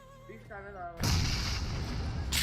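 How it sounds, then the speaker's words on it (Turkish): A grenade blast in the mobile battle royale game PUBG Mobile, a sudden loud broadband boom that rumbles on for over a second, following a brief stretch of faint voice-like tones. "Buraya da bir bomba sallayıp."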